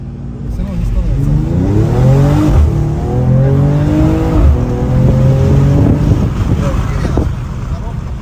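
A Mercedes E53 AMG with a Stage 1 tune accelerates hard, its loud engine note climbing steadily in pitch through successive rises, heard close and continuous throughout.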